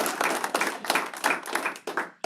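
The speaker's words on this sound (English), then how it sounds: "Well, we can still clap for Wyatt." An audience at a school board meeting claps for a Student of the Month, producing a short burst of uneven, fairly close applause with individual hand claps audible throughout.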